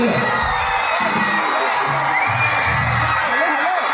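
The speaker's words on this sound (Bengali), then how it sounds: "হাততালি, এই চিৎকার" A festival crowd gathered around superstar Dev cheers, whoops and claps in a dense, continuous roar that holds steady for a few seconds.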